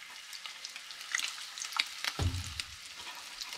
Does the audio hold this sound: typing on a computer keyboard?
no